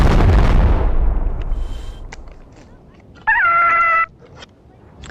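A loud explosion opens a video game fight and fades out over about a second, followed by sparse clicks and a short synthetic tonal chime.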